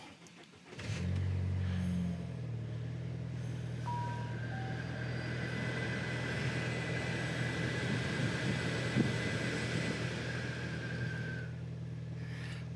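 A Saab car engine cranks and catches about a second in, then settles into a steady low idle that runs on alone, with a few chimes from the dashboard warnings.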